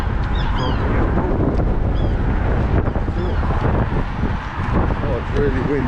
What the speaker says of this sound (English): Oh, it's really windy now.